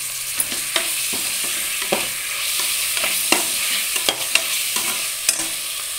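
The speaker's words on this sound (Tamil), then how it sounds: "இப்போ வந்து தக்காளி போட்டுக்கிறேன். தக்காளி புதினா எல்லாமே ஆட் பண்ணிடுங்க." Tomatoes and mint frying in a pan for masala biryani, a steady close sizzle broken by regular scraping clicks of a spatula stirring, with no talking.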